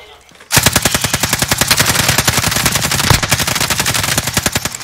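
Rapid automatic gunfire from a video game shootout bursts in after a brief quiet start, firing continuously in a dense, loud, evenly spaced stream of shots until the end.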